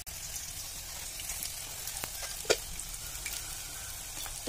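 Beef samosas frying in hot oil give a steady, even sizzle that runs throughout, with a few louder pops and crackles standing out, close and alone without any talk.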